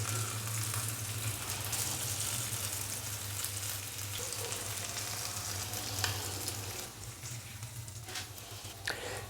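Fish fillet frying in a pan for a fish curry, a steady dense sizzle with crackling spatter running the whole time at moderate level, with a low hum underneath and no voices.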